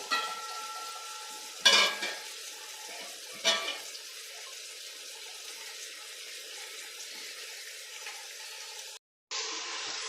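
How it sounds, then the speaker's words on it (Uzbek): Onions and bell pepper fry in a pan, a soft steady sizzle running throughout with a couple of louder clattering stirs near the start and a brief dropout toward the end. "Mana piyozlarimiz qovurguncha priprava beramiz"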